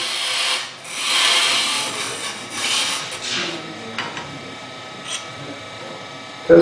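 Wood lathe with a Nova chuck turning a peppermill blank, a tool rubbing and scraping against the spinning wood in uneven waves, close and moderately loud with light knocks near the end.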